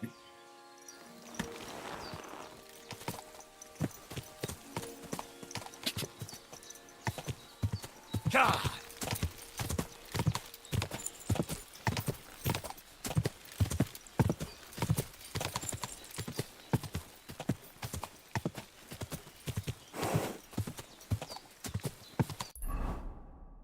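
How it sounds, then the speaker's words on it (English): Horse galloping in the Kingdom Come Deliverance 2 video game, a fast steady clip-clop of hooves close up with occasional neighing and game sounds, while a player talks now and then. "Horse."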